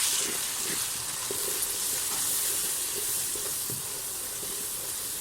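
Whole dadra chilies and salt roasting in a hot pan for a bhindi fry, giving a steady close sizzle with soft scraping stirs and no talk.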